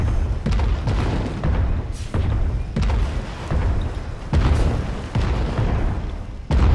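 Loud, heavy cannon shots in a video game battle boom out one after another in a steady, rapid series, each blast deep and rumbling.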